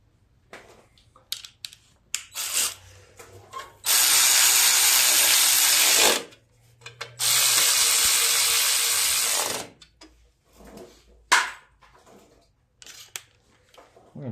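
A ratchet wrench snugs down bolts on the carburetor of a Simplicity riding lawn mower, giving short bursts of rapid clicking close up, two longer sustained runs, and scattered clicks and handling noises between them.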